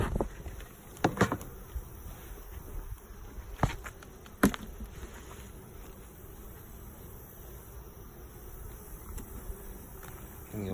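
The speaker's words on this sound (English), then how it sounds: "Look at how many bees are on a frame." Honey bees swarming over a hive frame, a dense continuous buzz close by with a few louder passing bursts as individual bees fly near.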